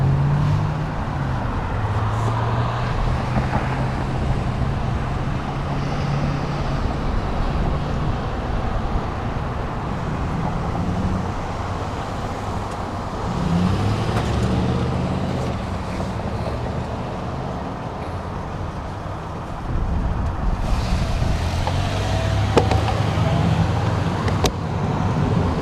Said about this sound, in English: Passing the cars.